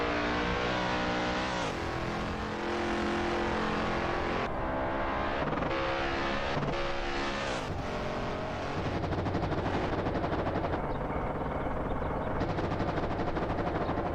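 Race car engines in an AI racing video game drone and whine continuously at high revs, with pitch shifts as cars close in and pass one another, loud and unbroken throughout.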